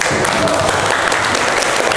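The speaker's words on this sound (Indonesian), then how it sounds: "Oke, boleh tepuk tangan untuk" A classroom of students applauds during a chemistry lesson on reaction rates, a loud, steady burst of clapping close by that fills the room evenly throughout.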